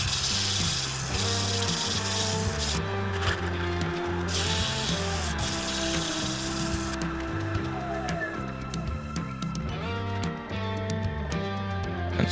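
A Red Ironbark wooden snack bowl is power-sanded on a lathe, sped up, giving a dense whirring, rubbing grind with rapid repeating pulses and shifting pitch, close and continuous without talk.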